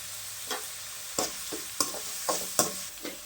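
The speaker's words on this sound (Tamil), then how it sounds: "அடுத்து இஞ்சி பூண்டு பேஸ்ட் ஆட் பண்ணிக்கலாம், வதக்கி விட்டுக்கலாம்." Ginger garlic paste and curry leaves sautéing in a pan for vegetable kurma: a steady frying sizzle with five or six distinct scraping stirs of a spatula at roughly regular intervals, close and without talk.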